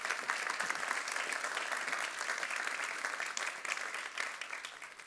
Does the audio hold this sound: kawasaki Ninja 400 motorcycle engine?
no